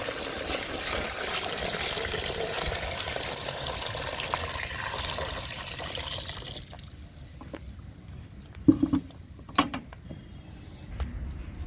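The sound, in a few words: water poured into a bucket of neem leaves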